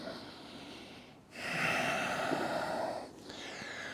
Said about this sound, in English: A couple breaths.